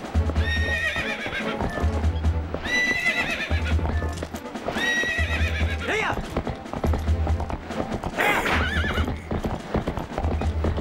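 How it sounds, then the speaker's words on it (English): Rhythmic galloping hoofbeats with repeated loud neighs and whinnies over the pounding, a horse run in Zelda: Twilight Princess on GameCube, with no talking. "this is total realistic horse riding"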